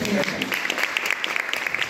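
Applause from an audience at a cultural awards ceremony, a steady patter of many clapping hands, moderately loud, with a voice briefly heard at the start.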